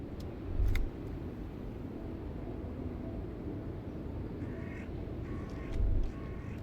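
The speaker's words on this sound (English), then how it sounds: "I can listen to music, or the seagull" Seagull cries in the Disco Elysium video game: a few faint, scattered calls drifting over a low, constant ambient rumble of wind or sea.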